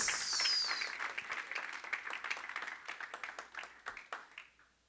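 A church congregation claps together in a dense burst that thins into a scattered, rhythmic patter before fading out, with no voices.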